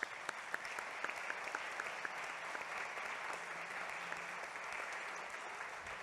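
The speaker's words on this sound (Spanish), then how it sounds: "Un aplauso nuevamente para él." An audience at a Spanish-language commemoration for the International Day of the Detained Disappeared breaks into sustained applause, a dense, even roar of many hands clapping that holds steadily throughout without fading.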